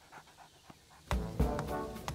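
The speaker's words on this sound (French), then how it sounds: "Capteur, arrête d'aboyer." A cartoon dog barks a few times close by, sharp bursts after a quieter stretch with faint rustling, followed by panting-like noise.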